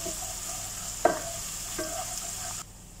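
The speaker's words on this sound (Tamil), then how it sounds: "பூண்டை சேர்த்துட்டு நல்லா வறுத்து விட்டுருங்க।" Crushed garlic fries in oil, giving a steady soft sizzle with a sharp utensil clink near the middle and a quieter tap later, before the sound drops off near the end.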